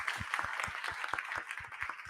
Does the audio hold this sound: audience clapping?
yes